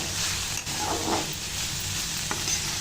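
Vegetables, beans and carrot with turmeric and salt, stirred as they fry in a pan for Maggi masala, a steady close sizzle with a few soft scraping strokes and no talk.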